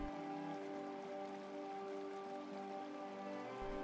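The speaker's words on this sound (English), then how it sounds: "The sky was overcast, and a light rain began to fall." Light rain falls steadily in barren, rocky mountains under an overcast sky, a continuous even patter and wash holding at one level throughout with no voices.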